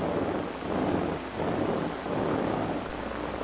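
Amplified neural spikes from a cockroach leg sound as a dense, steady crackling static roar while someone blows on the leg, with broadband hiss and slight swells in loudness throughout.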